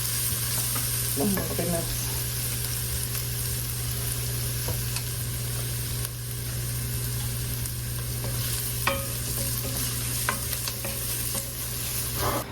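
Onions and celery sauté slowly over low heat in a pot, giving a steady, close sizzle with scattered stirring scrapes throughout and a brief spoken exclamation near the start.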